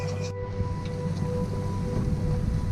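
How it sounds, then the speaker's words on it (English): Steady rain and wind wash over a sailboat out at sea on a North Atlantic crossing, a dense continuous hiss with low rumble of water, fairly loud and unbroken, with no talk. "Now it's raining again."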